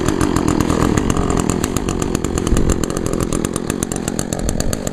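An Echo chainsaw engine idles after a cold winter start, a steady loud two-stroke putter close by with no other sounds.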